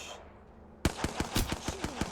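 Automatic gunfire in the battle royale game Apex Legends, a rapid burst of about eight evenly spaced sharp shots, loud and close, after a short quiet lead-in.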